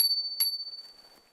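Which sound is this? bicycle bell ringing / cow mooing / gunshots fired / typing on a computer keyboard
bicycle bell ringing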